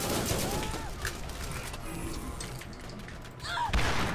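Gunfire in the video game Borderlands, dense crackling shots and thuds filling the scene steadily, with a heavier burst near the end and a voice faintly underneath.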